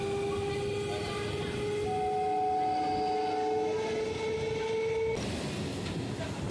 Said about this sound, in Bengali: সামনে থেকে আসছে ব্যান্ডেল লোকাল।